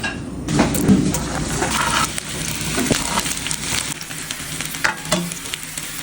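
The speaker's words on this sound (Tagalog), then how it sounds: "So, ipa-fry ko lang to hanggang sa maluto siya." Meatballs frying in cooking oil in a pan, a busy continuous sizzle with bursts of crackling and a few clinks, close and steady throughout with no talking.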